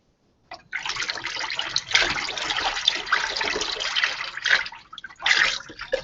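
Liquid lye solution for coconut oil soap pours steadily in a splashing stream for several seconds, with a few louder gushes along the way.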